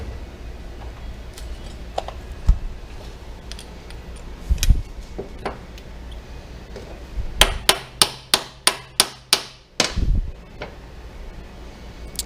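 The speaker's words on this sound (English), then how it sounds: "you can use something like this and just tap that piston out" A hammer tapping a piston out of a motorcycle clutch slave cylinder: scattered sharp metallic knocks, then a quick run of about eight evenly spaced taps close by, ending in a heavier clunk.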